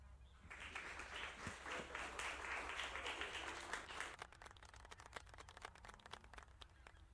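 Audience at a university game jam applauds a team after their game presentation, a sustained broadband wash of many hands clapping that swells, then thins into scattered individual claps before fading.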